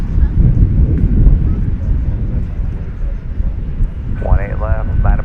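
A plane rolls for takeoff from runway 18 Left at Dallas/Fort Worth airport, a broad, steady low roar of engine noise throughout, with a voice speaking briefly near the end.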